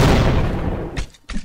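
A Doom character possessed in Garry's Mod lets off a heavy, booming shot that decays slowly, followed by two short, sharp blasts.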